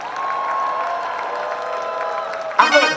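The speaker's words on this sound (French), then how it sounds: "Est-ce que vous pouvez vous applaudir vous-même?" Festival audience applauding themselves at an outdoor concert in Montreal, a steady wash of clapping and crowd noise throughout, with a brief louder burst of cheering near the end.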